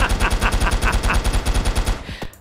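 Rapid automatic gunfire in the video game Stickochet, a steady run of about a dozen evenly spaced punchy shots for two seconds, then stopping with a short fading tail and a faint click.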